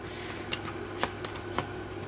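Tarot cards being shuffled by hand, a soft continuous riffling with a few sharper slaps at intervals, close and fairly quiet with no voices.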